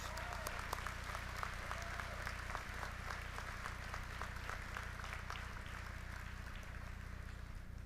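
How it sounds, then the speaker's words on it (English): A community college commencement audience applauds, a continuous dense patter of many hands clapping at a steady level for several seconds over a low hum of the hall. "Let's have a big round of applause for these 3 legislators"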